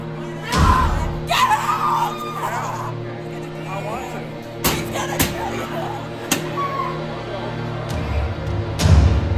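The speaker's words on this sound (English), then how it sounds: "Now the screaming begins." Screams and shouts ring out inside a haunted jail attraction in Bartow, Florida, loud bursts and yells over a steady hum, with people talking and sharp bangs scattered throughout.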